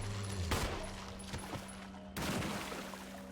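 Rapid pistol shots emptying a magazine in Resident Evil HD Remaster, sharp bursts of gunfire in two clusters, close and crisp against a quiet game ambience.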